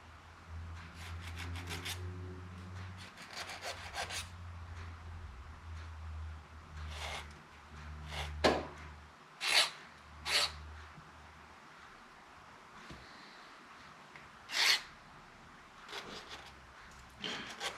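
A KTM 300 piston ring's ends are deburred by hand, producing soft scraping rubs and a few sharper filing strokes at close range over a quiet background hum.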